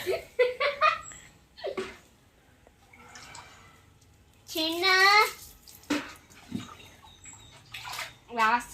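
Water poured over a small child during a bath makes bursts of splashing and trickling, close by, mixed with the child's giggles and squeals and adult talk.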